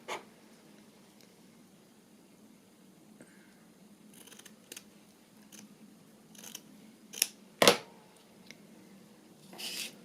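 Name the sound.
scissors cutting a small piece of paper to size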